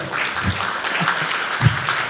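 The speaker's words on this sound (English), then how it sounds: "Ladies and gentlemen, give him the clap he so richly deserves." Audience at a technology talk in Hong Kong applauding a speaker, a steady wash of clapping at moderate level with a few stronger accents, no speech over it.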